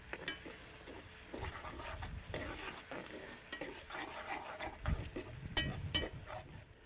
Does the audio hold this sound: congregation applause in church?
no